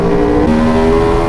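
A 2019 Aprilia RSV4 1100 Factory motorcycle engine drones loud and close with a steady, tonal hum that shifts pitch slightly partway through, with no voices.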